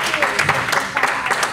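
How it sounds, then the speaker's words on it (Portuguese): A church congregation claps in a brisk, uneven patter, with voices talking and calling out over the applause throughout. "Dê um aplauso ao Senhor"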